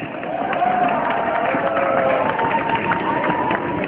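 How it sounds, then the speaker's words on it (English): Crowd at a live event applauding and cheering continuously, a dense, loud wash of clapping and voices throughout. "Big round of applause, guys."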